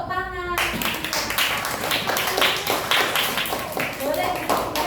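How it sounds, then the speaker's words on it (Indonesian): Schoolchildren clap their hands together in a classroom. A teacher's voice comes first, then a dense, lively patter of claps that continues to the end, with voices mixed in. "Beri tepuk tangan."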